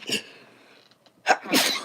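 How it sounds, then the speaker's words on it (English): A person sneezes close by in a stuffy room, a sharp burst followed by a short pause and then a second, louder sneeze. "So if I start sneezing, ladies and gentlemen, it's stuffy in here, so pardon me."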